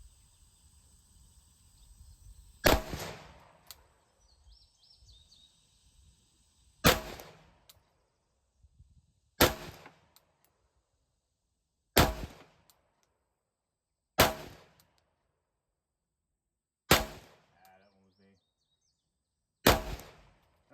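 Seven sharp gunshots fired at a target while shooting from an awkward position, evenly spaced a few seconds apart, each loud and close with a short decaying tail and near-silence between shots.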